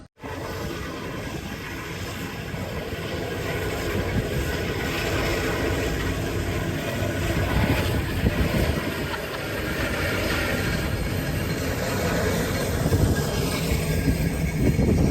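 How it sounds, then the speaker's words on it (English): A train rumbles steadily closer for a long stretch near Mount Washington, New Hampshire, its heavy rolling noise building, with occasional metallic wheel squeals and no talking. "Here's the train coming."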